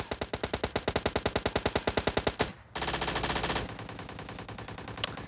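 Rapid automatic bursts from an MP5K submachine gun in the video game PUBG, a fast even train of close, loud shots lasting over two seconds, then a short gap and a denser wash of gunfire and game effects.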